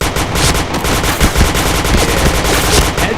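Rapid automatic gunfire from a shooting video game, loud, dense bursts of fire running continuously with no talking.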